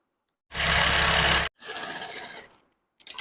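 A sewing machine runs a loose stitch down the centre of a front-open, prince-cut embroidered blouse: one loud, steady burst of about a second, a softer second run, then a brief start at the end.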